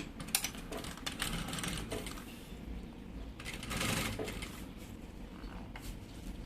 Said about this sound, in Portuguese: Então agora aqui, ó, vou costurar um pezinho de máquina.